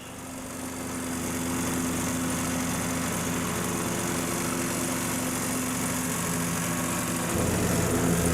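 Ride-on lawn mower engine runs steadily nearby, a constant mid-pitched drone that builds up in the first second and shifts slightly in tone near the end.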